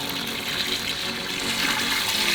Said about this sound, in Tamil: 5 லிட்டர் தண்ணி விடுறேன்.